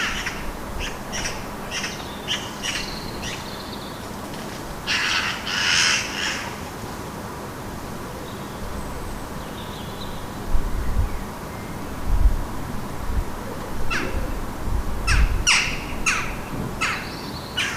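Magpies and jackdaws chatter and squawk in bursts, rapid rattling calls mixed with sharper caws, moderately close, with quiet gaps between flurries.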